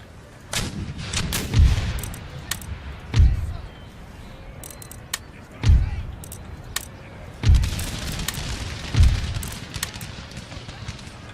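Cannon fire in Empire Total War, a series of deep booming shots spaced a second or two apart, loud and reverberant over a constant battlefield rumble with sharp crackles of musketry between them.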